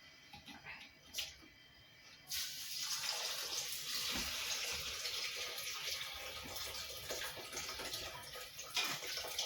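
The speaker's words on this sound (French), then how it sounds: "on rajoute de l'eau, donc de l'eau que j'ai fait chauffer" Heated water streams into a pot of red lentil soup, a continuous rushing pour that starts after a few quiet seconds and stays steady until the end.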